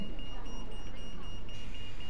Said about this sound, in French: Vous entendez l'alarme là, ça veut dire faut dégager d'ici.